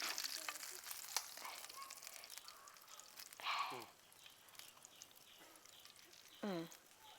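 Tandoori chicken pan-fries in oil, giving a steady, soft, crackling sizzle throughout, with occasional stirring or turning noises and a quiet voice speaking now and then.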